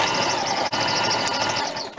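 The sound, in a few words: sewing machine sewing a decorative scallop stitch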